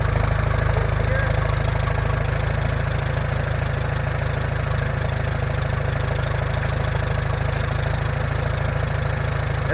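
A Farmall M tractor engine runs at a steady idle, a loud, close, low rhythmic chugging throbbing without a break throughout.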